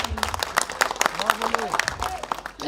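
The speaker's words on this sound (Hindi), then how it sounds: "हम सभी लोग तालियों के साथ इनका स्वागत करेंगे।" A crowd at an election gathering applauds to welcome a guest, brisk close clapping throughout, with a voice speaking over it.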